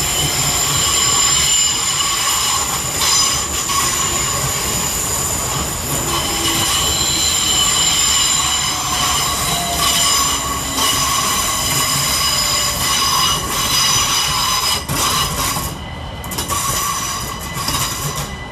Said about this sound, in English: Arriving next into the station is 376004 and 376025, working the 1237 Southeastern service from Dartford to London Charing Cross